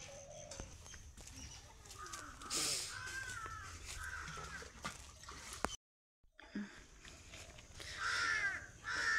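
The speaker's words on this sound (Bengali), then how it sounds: "কোথায় একটা কাক ডাকছে।" A crow caws several times at a distance on a foggy morning outdoors, harsh calls scattered over faint ambient noise with a brief dropout partway through.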